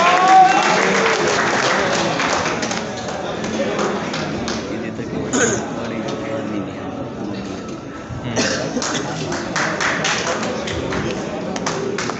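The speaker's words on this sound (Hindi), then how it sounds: "असलम भाई के लिए तालियां" A seminar audience in a library applauds for an arriving guest, sustained clapping with scattered taps and a few coughs, loud at first and easing off, with murmured voices mixed in.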